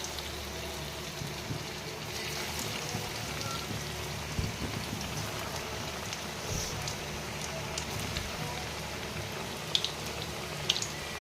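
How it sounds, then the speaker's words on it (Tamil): Cornflour- and semolina-coated cutlets deep frying in hot oil make a steady, close crackling sizzle like light rain, with a few sharper pops near the end and no talking. "இந்த மாதிரி தட்டி வச்சதை எண்ணெயில் பொரிச்சு எடுக்கணும்."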